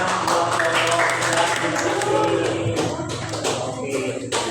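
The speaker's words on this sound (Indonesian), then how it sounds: "terima kasih tepuk tangan buat" Students applaud in a school classroom during a coding lesson, a dense, steady clapping that fills the room and holds loud throughout, with some voices and tonal sounds mixed underneath.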